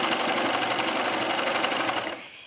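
Sewing machine running steadily while stitching along the edge of an elastic knit waistband on a skirt, a loud continuous close whir for about two seconds that stops abruptly at the end.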